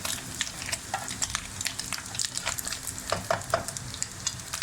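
Garlic frying in a pan for Chinese fried rice, a soft steady sizzle broken by light scraping and stirring clicks from a spatula, close and fairly quiet, with no talking.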